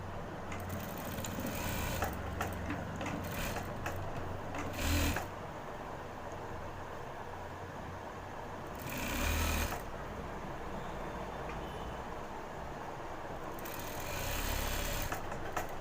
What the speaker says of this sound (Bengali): সেলাইটা দেওয়ার সময় কিন্তু বাও বাও সাইড থেকে শুরু করছি